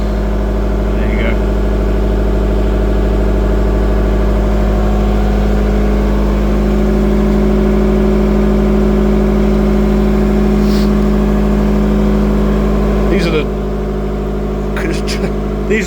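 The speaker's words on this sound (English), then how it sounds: "So that's the general service pump." The general service pump in the engine room of the SS Explorer steamship runs with a loud, steady mechanical drone and hum, with a few faint clicks and knocks near the end.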